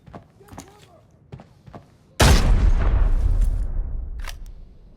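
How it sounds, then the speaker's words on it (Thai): A grenade detonates in the shooter game Arena Breakout: a sudden, loud, close blast with a deep rumbling tail after a stretch of quiet, scattered gameplay sounds. "เดี๋ยวผมปาระเบิดไล่เพื่อนเขาก่อนนะ"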